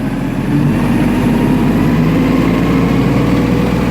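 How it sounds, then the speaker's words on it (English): An LS XG3025 tractor engine revs up under throttle while brush hogging, then holds a loud, steady, close drone with a rough low rumble. "So now, throttle her up."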